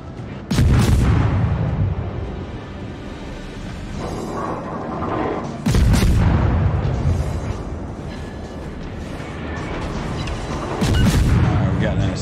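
Naval gunfire in the PC video game World of Warships, with three heavy booming salvos spaced several seconds apart and a loud, rumbling tail after each, heard over the game's background noise.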